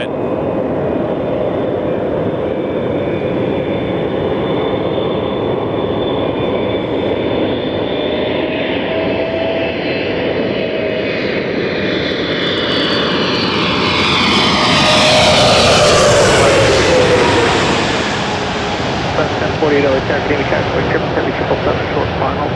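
An EVA Air Boeing 777-300 jet landing at LAX, its loud engine roar building steadily and swelling as it passes close overhead, then easing off, with a person talking during the approach.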